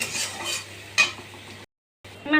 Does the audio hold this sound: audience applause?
no